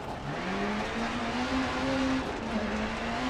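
A revving turbo rally car engine in the video game DiRT Rally climbs and falls in pitch as it accelerates on a hillclimb, a steady loud drone with rising whine and rough road noise beneath.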